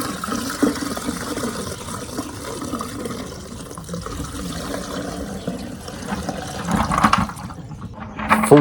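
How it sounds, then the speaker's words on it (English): Dirty water left from cleaning a carpet in a Ford Capri 280 drains away with a gurgling, rushing wash that grows louder toward the end, with no talking. "40 years of grime down the drain."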